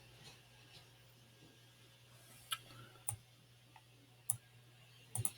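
A computer mouse clicks a few times in a quiet room, with short, sharp, isolated clicks over a low electrical hum.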